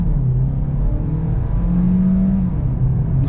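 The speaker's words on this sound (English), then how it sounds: "So we just switched over to sport mode just to see the difference in acceleration." A Kia Niro PHEV plug-in hybrid, SX Touring trim, accelerates in sport mode. A steady low drone swells into a rising whine midway, heard from inside the cabin with no talk.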